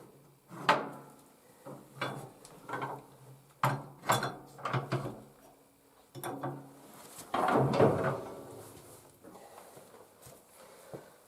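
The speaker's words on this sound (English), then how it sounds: "flip that a couple times, and all the ashes drop down into that pan" Woodstove ash grate lever flipped back and forth with a wrench, sending ashes into the pan below: a series of close metallic clanks and rattles in irregular bursts, ending in a longer scraping rattle, with no talk.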